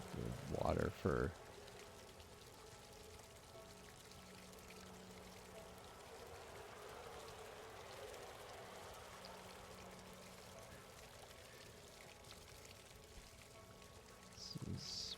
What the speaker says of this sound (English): this is one way to water crops.